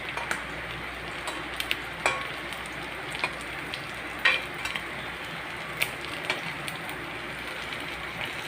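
Fish pakora frying in oil, a soft steady sizzle close by with sharp clicks and taps of utensils against the pan scattered throughout.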